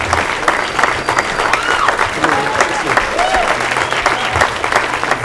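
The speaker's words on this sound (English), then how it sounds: "Please join me in a round of applause" Audience at an MLK commemorative dinner applauds steadily, a dense even patter of many hands filling the room, with some voices and cheers mixed in throughout.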